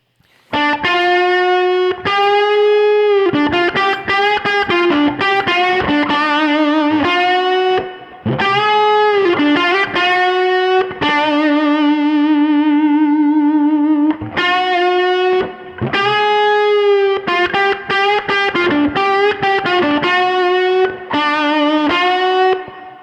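Distorted electric guitar plays a melodic line with sliding bent notes and wavering vibrato on held tones, loud and continuous with brief pauses.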